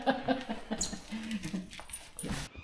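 A dog whimpers and yips in short, high bursts on a rural property with a sawmill, alongside low background noise and a faint voice.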